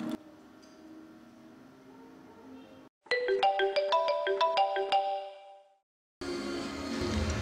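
An incoming-call ringtone plays on a phone in an Indonesian short film. A loud melodic tone pattern repeats for about three seconds between quieter background stretches, then cuts off abruptly.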